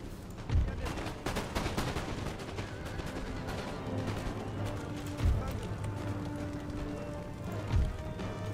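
Musket volleys crackle across an Empire: Total War siege battle at a wall, a steady dense rattle of scattered shots with a few heavier booms, under someone talking.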